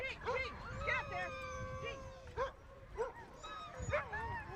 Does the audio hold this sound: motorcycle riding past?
no